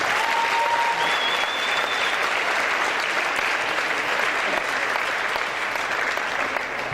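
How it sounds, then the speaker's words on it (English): Sustained, dense applause fills the room at a Fred Astaire Dance Studios event, a steady unbroken wash of many hands clapping for the performers and staff, loud and even for the full seven seconds. "A big round of applause for everybody from that standpoint."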